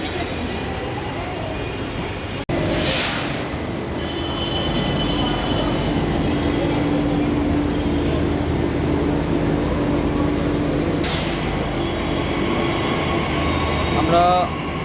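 A Delhi metro train rumbles steadily through a station, a continuous loud rail and air-conditioning hum with a sharp click near the start and faint squeals toward the end.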